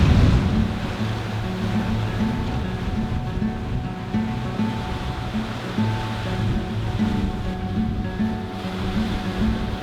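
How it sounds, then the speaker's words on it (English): Waves rushing past a sailing boat on the cold Atlantic Ocean, a steady broad wash of water with a low rumble underneath, continuous and fairly loud, with no voices. "It feels great to be sailing again"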